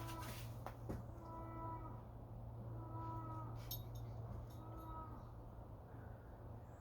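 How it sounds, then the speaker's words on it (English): Cows on a farm low in several drawn-out moos, repeating at intervals over a steady background hum, fairly distant and faint, with no talk. "I have cows."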